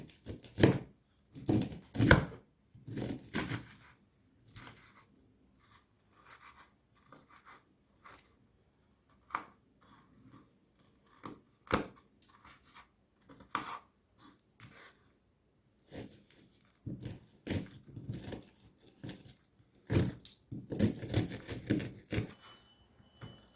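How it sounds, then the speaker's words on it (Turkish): Knife chopping kadayif shredded pastry into small pieces, irregular bursts of quick dry cuts and rustles separated by pauses, close and moderately loud, with no talking. "Onu şöyle küçük küçük doğruyoruz."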